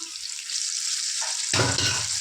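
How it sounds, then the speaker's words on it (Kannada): Ground masala paste and drumstick pieces fry in hot oil in a pan, a steady loud sizzle that flares up sharply partway through as the mixture is stirred. "ಈ ಮಸಾಲೆದು ಹಸಿ ವಾಸನೆ ಹೋಗೋವರೆಗೂ ಫ್ರೈ ಮಾಡ್ಕೋಬೇಕು"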